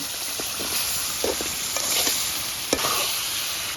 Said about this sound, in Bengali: এখন আলুটা দিয়ে দিব।